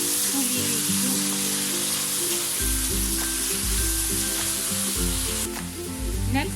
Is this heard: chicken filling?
yes